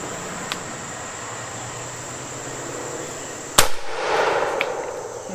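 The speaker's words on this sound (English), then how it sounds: "So let's give the shotgun a shot." A single loud, sharp blast from a Stoeger M3000 12 gauge shotgun loaded with double-aught buckshot, fired outdoors after a quiet stretch of steady background hiss, followed by a brief rustling decay.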